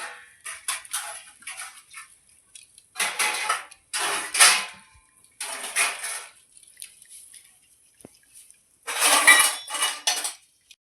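Metal kitchen pots and utensils are set onto a drying rack in a small home kitchen, in bursts of loud, close clanks and rattles separated by short quiet gaps.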